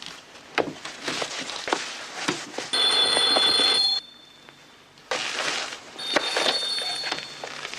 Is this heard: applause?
no